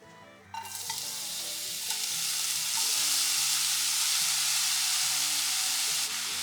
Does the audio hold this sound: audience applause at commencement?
no